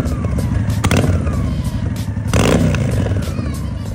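A 2001 Honda Black Widow motorcycle runs nearby with a deep, loud engine rumble, punctuated by two brief revs that swell and then settle back to a throbbing idle.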